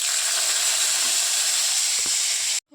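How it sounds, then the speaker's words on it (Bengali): Cashews and raisins fry in hot oil, giving a steady, loud hiss and sizzle with a few soft clinks, cutting off abruptly at the end. "তো এবার এর মধ্যে দিয়ে দেব একটু কাজু আর কিশমিশ। তো এখানে ভেজানো আছে, এটা একটু লাল করে ভেজে নেব।"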